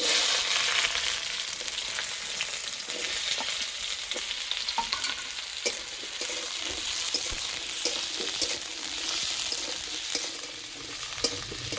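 Small-cut potato and eggplant pieces fry in hot oil with dried chillies, giving a loud, continuous sizzle close by, broken by occasional scraping stirs and with no voices.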